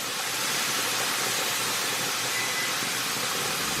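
Onion cooking in a pan with salt and pepper, a loud, even, steady sizzling hiss that holds without a break, with no talk.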